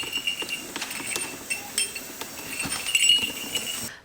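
Santa slippers with bells jingle softly as someone walks around the house, light irregular clinks and tinkles repeating close by, no talk.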